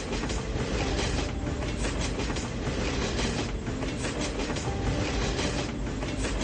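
A double-decker train running on rails gives a continuous loud rumble with rolling wheel clatter and a steady broadband roar, heard from close range and without a break.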